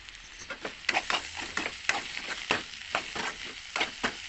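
Crushed garlic dropped into eggplant and potato frying in a pan, giving a steady close sizzle broken by repeated short stirring scrapes and clatters at an uneven rhythm.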